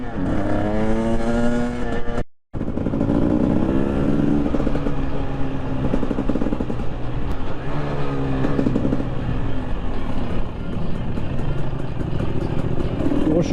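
A GasGas 300 two-stroke supermoto motorcycle engine revs loudly up close, its pitch rising and falling through repeated throttle blips, with a sharp brief cutout early on before it roars again.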